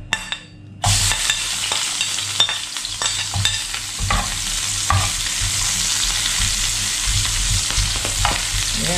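Onion dropped into hot olive oil in a pan bursts into a loud, steady sizzle after a brief quiet start, with occasional scrapes and clicks of stirring, no speech.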